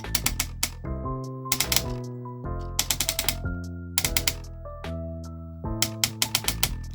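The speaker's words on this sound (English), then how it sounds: "It's a lot of ratchet joints, and if you know me, you know I love ratchet joints." Ratchet joints on an Age of the Primes Star Optimus Prime toy figure click in quick, crisp bursts as the limbs are moved, with short pauses between each run of clicks.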